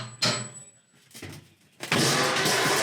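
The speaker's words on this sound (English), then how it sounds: "Since it's air ride, we started the bus" A bus engine cranks and catches after a short pause, rising into a loud steady run, in a workshop setting.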